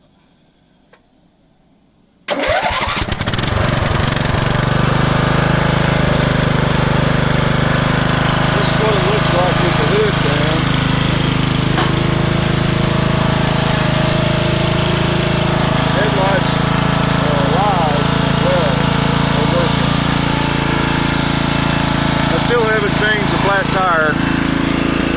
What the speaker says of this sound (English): I'm gonna give it a crank up.